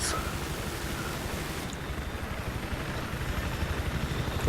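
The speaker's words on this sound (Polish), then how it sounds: "O, do helikoptera sobie wejdę." A helicopter flies in Battlefield 3, its steady rotor chop and engine roar droning without a break, loud and close, with no voices over it.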